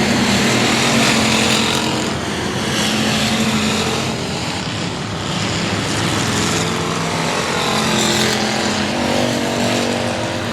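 Race cars roar past at I-37 Speedway, a dense, loud wall of engine noise with surging passes as the pack of cars battles for position on the track.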